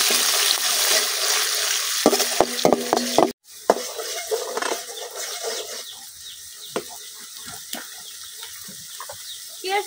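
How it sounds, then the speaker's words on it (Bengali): Sliced onion fries in hot oil in a wok over a village clay stove, a sizzling crackle with clattering stirring strokes up front, then a sudden break followed by quieter sizzling and scattered knocks. "পেঁয়াজটা আমি একটু বাজা নিয়েছি"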